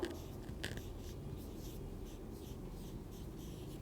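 Chalk or marker scratching steadily across a board during a classroom English lecture, faint continuous strokes with soft rhythmic scrapes and background room hum.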